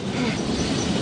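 Steady, loud rumble and clatter of a passing train, a radio drama sound effect, continuous and close with no voices over it.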